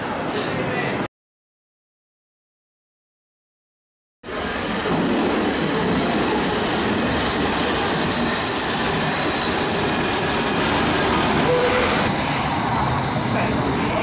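A London train runs along the rails with a steady, loud rumble of wheels and wagons, cutting out briefly before rolling on continuously.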